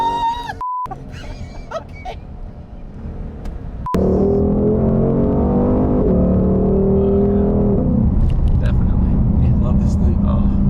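A 2021 Shelby GT500 Mustang in Twister Orange revs at about half throttle, a loud, sustained roaring engine note that rises and holds, with people talking under it.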